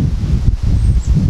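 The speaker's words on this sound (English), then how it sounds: "can you hear that wind, guys?" Loud, steady wind buffeting outdoors during catfish jug fishing, with a constant low roar and rustle close to the microphone and no talking.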